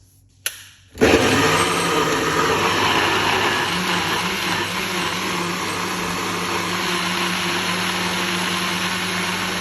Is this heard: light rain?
no